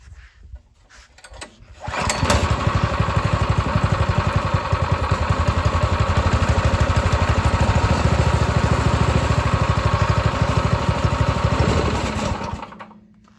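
A Predator 212 cc engine on a TroyBilt Econo-Horse tiller catches after a pull and settles into a loud, steady chugging run for about ten seconds before cutting off.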